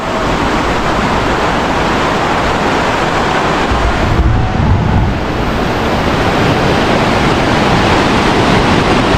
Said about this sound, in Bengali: এই দেখো রাফটিং হচ্ছে